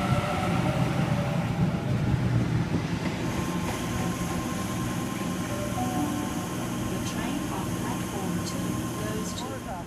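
A train pulls out from a station platform, its steady low rumble and rolling wheel noise filling the space evenly throughout, with faint high squeals appearing later.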